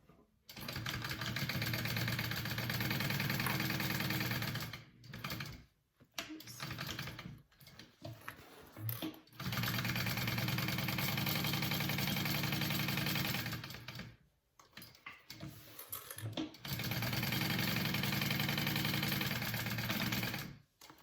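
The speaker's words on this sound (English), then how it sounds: "I am going to stitch down the side, down the bottom, and up around the other side" Sewing machine stitching a seam on a Duffy Bag, running in three long, steady bursts with brief pauses between them, loud and close.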